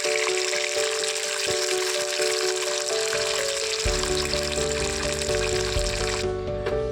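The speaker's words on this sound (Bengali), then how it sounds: "এরকম অল্প তেল দিয়ে মাছটা আমি ভালো করে ভেজে নেবো" Steady, close sizzling of fish frying in a little oil in a pan, a continuous crackling hiss that runs throughout without talk.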